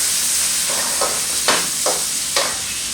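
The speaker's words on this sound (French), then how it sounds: "j'ai 2 oignons ici, ça ne m'a jamais quitté. Je rajoute mes 2 oignons." Two onions go into a hot pan for a meatball stew and sizzle loudly, with several sharp bursts of frying and stirring scrapes over a constant hiss.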